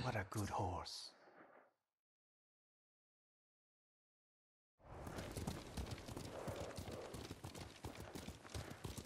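Rapid hoofbeats of a galloping horse in the video game Ghost of Tsushima, loud and close, start after a short burst of speech and a few seconds of silence, then continue steadily to the end.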